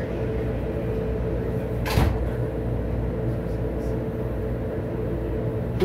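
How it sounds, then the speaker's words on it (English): Las Vegas Monorail doors closing, a single brief thump and swish at about the two-second mark over the constant low hum of the train interior. "Doors are closing. Please stand clear."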